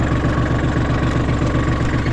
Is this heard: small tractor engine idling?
yes